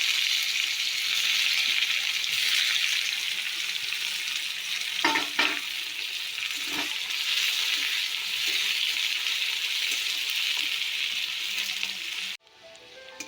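Chopped onion hisses loudly in hot oil with whole garam masala, cardamom and bay leaves, a dense steady sizzle with a few brief clanks before it suddenly cuts off near the end.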